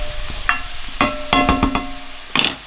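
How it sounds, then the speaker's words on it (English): Spoon scraping burnt, crisping chilli con carne off the bottom of a frying pan: several sharp scrapes and clatters over a steady sizzle, close up. "Scrape it off the bottom where it's burning"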